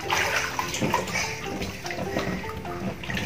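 Children swimming make continuous close splashing and sloshing water, busy and fairly loud across the short stretch, with faint voices mixed in.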